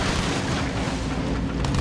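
A massive, continuous explosion roars in Battlefield 1, a dense and loud rumbling blast that fills the whole moment without a break.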